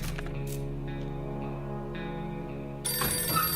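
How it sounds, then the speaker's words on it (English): A telephone rings steadily outside in the survival game 60 Seconds, its repeated bell tone holding over a sustained tonal backdrop that grows brighter and louder near the end. "We can clearly hear a phone ringing outside."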